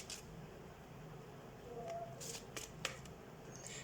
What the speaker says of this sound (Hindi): सबसे पहले हम कार्ड शफल कर लेते हैं।